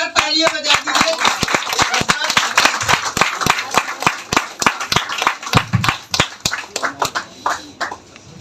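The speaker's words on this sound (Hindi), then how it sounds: "जोरदार तालियां बजा दीजिए।" Loud audience clapping at a motivational success seminar, a dense burst of handclaps that thins into scattered individual claps over several seconds, with a voice speaking briefly at the start.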